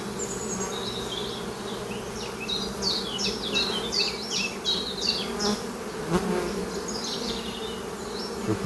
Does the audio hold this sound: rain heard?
no